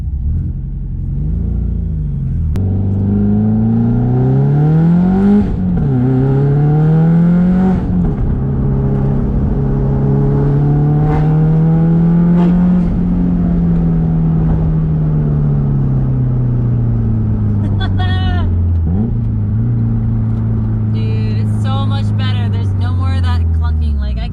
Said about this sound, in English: we're officially going to take the Subaru on a test drive.